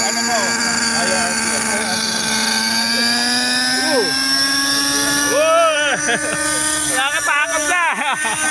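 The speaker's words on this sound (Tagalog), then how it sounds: "Mukhang club helicopter dyan ah." Hirobo SDX model helicopter flying over a field, its steady rotor and engine whine running throughout with rising and falling pitch, while people talk nearby over it.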